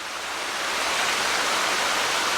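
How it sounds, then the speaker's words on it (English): A nearby waterfall at Acrigg's Falls gives off a steady, dense rush of falling water. The sound is full and continuous and swells slightly toward the end, with no voices. "Maybe somewhere down here, right next to one of the waterfalls."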